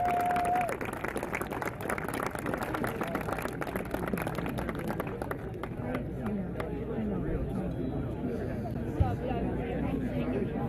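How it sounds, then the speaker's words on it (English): Crowd applause and chatter for top finishers at the 2016 NCAA Division II men's cross country national championship, steady clapping mixed with hubbub, with a brief tone at the start. "let's give them a nice round of applause"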